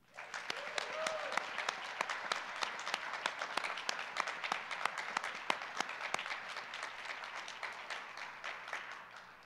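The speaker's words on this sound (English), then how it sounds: "One more round of applause." An audience at a university Grad Slam final round gives a sustained round of applause, steady dense clapping with sharp individual claps standing out, heard from a moderate distance for several seconds.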